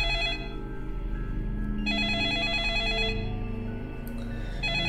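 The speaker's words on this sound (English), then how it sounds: "The sudden ringing of the phone startled everyone in the room." A phone rings repeatedly in a room, with pulsing electronic trills that come in three bursts, each broken by short pauses, loud and alone with no voices.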